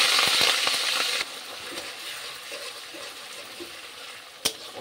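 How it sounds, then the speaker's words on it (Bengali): Onion paste and cumin frying in a pan for a dahi katla fish curry, a bright, loud hiss at first that settles into a softer steady sizzle, with one sharp clink near the end. "পেঁয়াজটা একটু হালকা করে ভেজে নিচ্ছি, কাঁচা গন্ধটা যতক্ষণ না যাচ্ছে"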